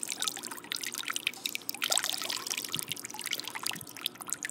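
A broken VHS tape is dropped into water, giving a close, steady run of trickling, bubbling and sloshing splashes that stay fairly even in level throughout.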